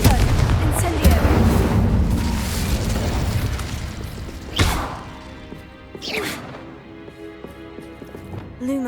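Spell blasts in Hogwarts Legacy, fiery Confringo and Incendio bursts that go off as a couple of sharp booming whooshes over busy in-game ambience and rumbling.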